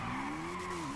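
A car in a video game skidding under the handbrake, a short sustained tire squeal over engine drone lasting about a second, fairly quiet and alone.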